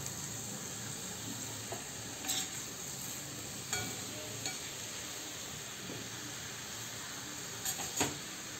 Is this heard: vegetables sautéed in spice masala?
yes